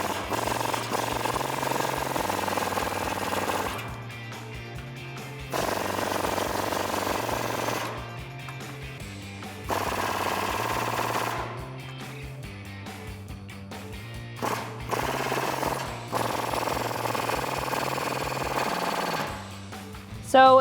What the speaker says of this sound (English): I'm going to use a 19mm socket to remove the 4 nuts that are holding them on.